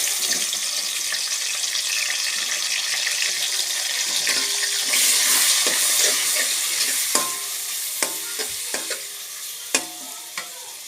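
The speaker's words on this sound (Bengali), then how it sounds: "এবার আমি দিয়ে দেব পেঁয়াজ।" Onion going into a hot pan of frying eggs and potatoes, a loud continuous sizzle close to the microphone, with several sharp clinks and scrapes from stirring near the end and no talk.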